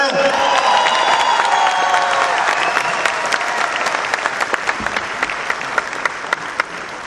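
A large crowd at an Amway celebration breaks into loud applause with some cheering and voices, then thins into slower, distinct individual claps toward the end.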